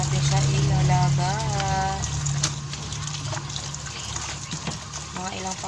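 Sweet potato leaves are rinsed in water for a salad with tomatoes, giving a few seconds of faint splashing and trickling under a voice.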